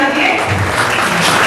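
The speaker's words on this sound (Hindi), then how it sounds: "तालियां एक बार बजा दें" Audience applause at an agricultural meeting on cotton and chilli crops and tractors, a short, steady wash of many hands clapping, loud and close, with no pause through the brief stretch.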